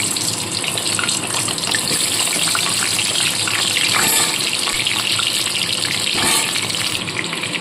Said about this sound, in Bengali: তেল খুব ভালো মতো গরম হয়ে গেছে প্রথমে আলুগুলোকে ছেড়ে ভেজে তুলে নেবো